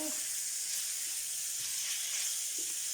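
Cut-up bacon pieces frying in oil in a pan, a steady bright sizzle and hiss that stays constant and close throughout, with no talking.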